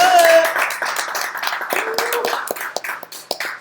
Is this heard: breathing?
no